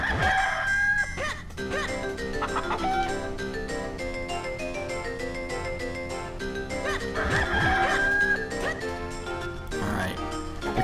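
Cucco chickens in The Legend of Zelda: The Minish Cap crowing and clucking in shrill game tones over cheerful, steady background music.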